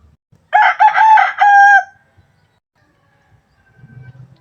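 A young white pit gamecock stag crows once, loud and close: a single ringing cock-a-doodle-doo of several rising and falling syllables, then near silence with a low rumble at the end.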